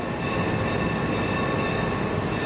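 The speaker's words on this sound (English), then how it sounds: "trains thundering across the country" A train thunders along a railway in a loud, continuous, dense rumble with a steady roar of wheels and cars and no breaks.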